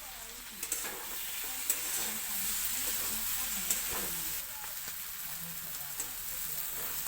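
Paneer cubes and cooked-down masala fry in a pan with a little sugar, giving a soft steady sizzle broken by a few sharp scraping knocks of a spoon stirring.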